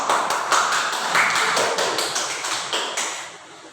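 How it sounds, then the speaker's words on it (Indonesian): A class of students applauds in a classroom with quick, rhythmic, close-sounding claps that run steadily for a few seconds and then taper off. "Tepuk tangan untuk."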